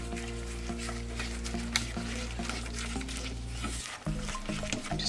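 Flour, cream of tartar, salt and baking powder are whisked together for vanilla cupcakes, a soft continuous scraping and rustling against a bowl over a steady low hum, near and moderate, no talk.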